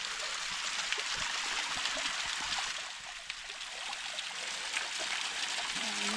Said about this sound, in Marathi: इथे पाणी असा झिरत राहील या दगडावरनं